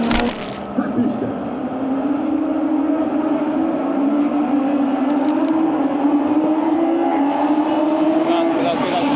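Rallycross race cars on the Lousada track, including an Audi A1, with a sharp crack at the start, then a loud, sustained engine drone that rises slowly as the cars run past, under a commentator's voice.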